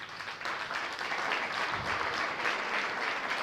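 A church congregation claps together in sustained applause, a dense, steady patter of many hands heard from within the room, moderately loud and continuous throughout.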